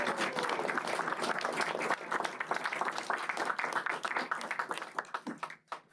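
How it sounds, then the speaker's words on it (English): Audience members at a school board meeting give a round of applause, brisk crisp clapping from a modest crowd that thins into a few last claps before stopping. "give them a big round of applause"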